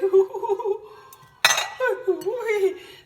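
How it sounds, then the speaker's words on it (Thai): A large snakehead fish goes into a pot of pickled bamboo shoot curry with one sharp clattering splash of metal and liquid midway, while someone talks and laughs around it. "ตอนนี้เราก็จะเอาปลาลง แกงหน่อไม้ดองใส่ปลาช่อน ตัวโตๆ"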